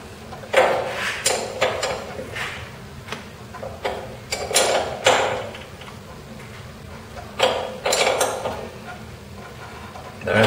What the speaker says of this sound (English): take two wrenches. And then just tighten this way down.